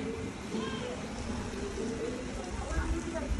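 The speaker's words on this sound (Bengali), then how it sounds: "এখন এই যে বৃষ্টি পড়া শুরু হয়ে গেছে" A soft, steady patter of light rain falls throughout, with a faint voice murmuring in the background.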